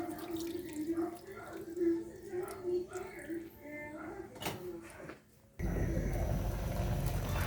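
Water poured into a pan of adobong tuna seasoned with vinegar and soy sauce, a sudden rushing splash after a stretch of quieter kitchen noise and a voice speaking.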